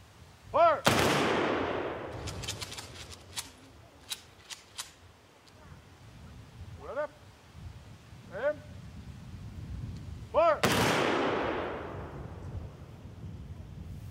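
A rifle volley at a Memorial Day ceremony cracks out sharply twice, several seconds apart, each shot ringing with an outdoor echo. Spoken commands come in between the shots.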